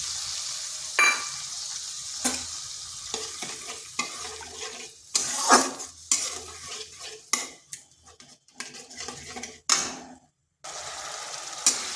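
Ground turmeric, cumin, coriander and Kashmiri chilli powder fry with a splash of water in a pan, giving a close sizzle broken by repeated sharp scrapes and clinks of a spoon stirring against the metal.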